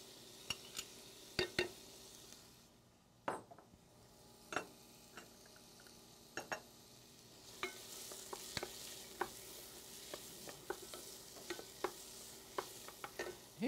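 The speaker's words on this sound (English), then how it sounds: "we're going to be sweating our vegetables here. I'm going to add some of my shallots." Vegetables and shallots sweating in a pan while a stock for a lobster crepe sauce is started, giving a steady soft sizzle broken by frequent sharp clicks and scrapes of stirring against the pan, with no talk.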